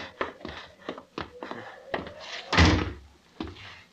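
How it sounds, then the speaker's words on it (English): Amid short knocks and thumps in an old-time radio drama, a door swings open with a loud, close thud and rattle partway through. "Open the door."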